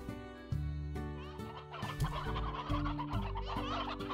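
A Roostro chicken in Slime Rancher clucks repeatedly over steady looping game music, several short fowl calls stacked close together with no talk.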